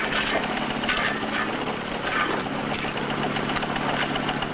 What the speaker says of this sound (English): Cut that engine.